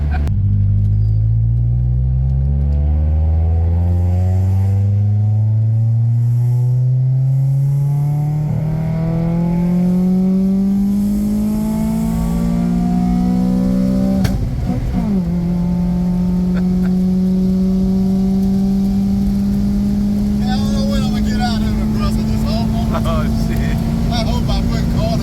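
Honda Accord wagon with a swapped F20B engine running steadily, its pitch climbing slowly as it pulls, a loud continuous drone close by with people talking over it.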